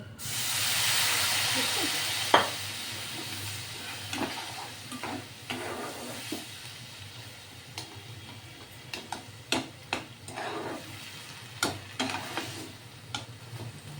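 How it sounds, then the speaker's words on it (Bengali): Sugar, semolina and grated coconut frying in a wok for stuffed goja filling, giving a steady close hiss with scattered ticks and scrapes of stirring, without speech. "চিনি সুজি আর নারকোল ভেজে নিলাম হ্যাঁ সামান্য ভেজে একটু জল দেব"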